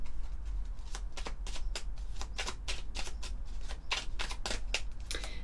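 A deck of oracle cards is shuffled by hand, giving a quiet, close run of papery riffles and flicks in an uneven rhythm that continues through the whole stretch, with no talk.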